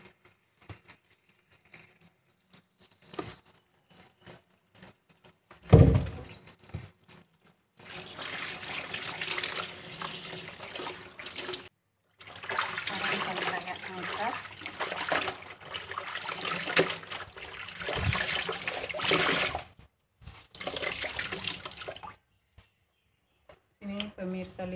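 Water poured into a container while rinsing tie-dye clothing, heard as a steady splashing stream in bursts after a louder splash, fairly close and without talk.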